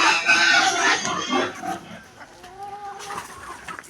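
Several chickens clucking and squawking close by, busy and overlapping, with a few higher calls toward the end.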